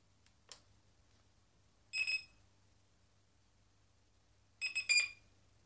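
Walkera Scout X4 quadcopter powering on after a battery fault was fixed: a faint click, then two bursts of sharp electronic startup beeps about three seconds apart, clear and close in a quiet room.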